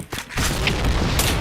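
Grenade blast in a first-person shooter game: a sudden heavy boom that swells into a rumbling, crackling roar lasting about a second, loud and close.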